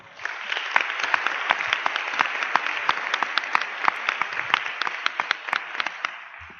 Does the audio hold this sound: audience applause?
yes